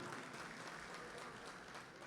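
Audience applause at a mushaira poetry gathering, a dense, steady wash of clapping from a crowd, continuous and fairly distant with no talk over it.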